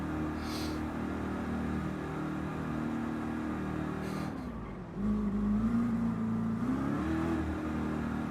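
A Gran Turismo GR.3 race car engine drones loud and steady through a Daytona road course lap, its pitch dropping near the middle and then climbing again as the car accelerates, with no talk over it.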